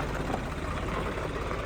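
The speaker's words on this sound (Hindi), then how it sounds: "तो भाई साहब ये आ चुका है हमारा जॉन डियर" A John Deere 5050 tractor's diesel engine idling nearby at a farm during rice paddy preparation, a steady low rumbling drone that stays even throughout, with no talk.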